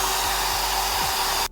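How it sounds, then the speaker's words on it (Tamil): A hair dryer blows hot air to dry glue on a damaged shoe sole during a repair, a loud steady whooshing drone with a faint motor hum that cuts off abruptly at the end. "ஸோ இந்த ப்ராசஸை ஸ்பீட் பண்ணுறதுக்கு நீங்கள் ஹேர் ட்ரையர் யூஸ் பண்ணிக்கலாம்"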